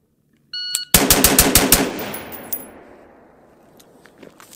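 A rapid burst of six rifle shots fired through a Geisley SSAE trigger in a speed test, loud sharp cracks in quick even succession, followed by a decaying echo with no talking.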